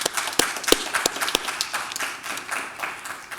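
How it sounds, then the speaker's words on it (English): A conference audience claps for the organizers, a dense crackle of many hands with a few sharper louder claps standing out, sustained and moderately distant in a large hall. "Let's give them all a well-deserved round of applause."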